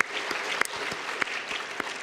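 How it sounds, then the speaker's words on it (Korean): A church congregation at a Sunday afternoon service applauds in a soft, steady wash of clapping, with a few louder rhythmic claps standing out near the front. "하나님께 영광의 박수 드리겠습니다."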